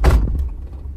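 A Suzuki Every wagon's car door opening: a close, heavy thump at the start, with a low rumble lingering underneath for the rest of the second.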